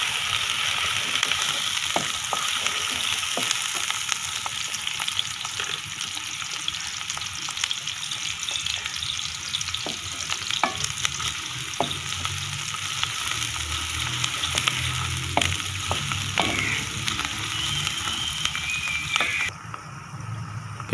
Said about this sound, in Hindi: कढ़ाई में घी डालें, उसमें प्याज डाल दें।